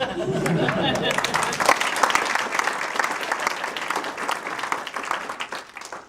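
Audience applause at a police retirement event fills the room, dense steady clapping that holds strong and tapers slightly toward the end, with some crowd noise mixed in.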